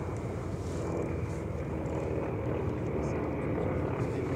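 A warbird aircraft drones steadily overhead at the EAA AirVenture airshow, a continuous loud engine and propeller roar with an announcer's voice over it.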